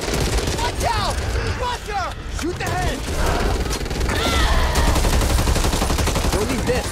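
Rapid gunfire rattles almost nonstop while shooting zombies in the co-op game Back 4 Blood, layered with dense game effects, creature screeches and voices talking over the action throughout.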